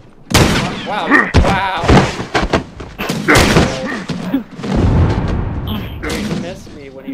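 Shotgun blasts in The Last of Us multiplayer land as a few sharp, booming thuds scattered among near, continuous talking, largely buried beneath the voices.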